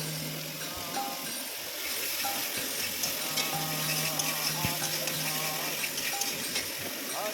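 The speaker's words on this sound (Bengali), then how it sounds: "মশলাটা ভালো করে কষতে হবে" Spice paste with yogurt sizzles steadily in a pan while a spoon scrapes and stirs it in an even rhythm. The frying hiss stays constant at close range, with occasional light clinks.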